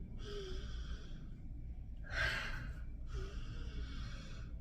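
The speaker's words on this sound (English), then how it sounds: "take a nice deep breath into the belly" Two slow, deep breaths in and out, each long and airy, with a brief sharper intake between them; close, soft and calm, with no talk.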